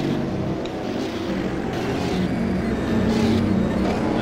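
Racing car engines from a 1971 Formula One race at Monza in a video game, a continuous loud drone with shifting pitch as cars pass, no voices.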